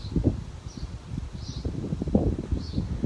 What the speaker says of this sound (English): Sorry, that wind is blowing.